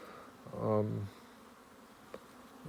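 Honey bees at a backyard hive, yellow package-hive bees: a single short burst of buzzing drone rising and fading over about half a second, moderately close, followed by quiet with faint background hum.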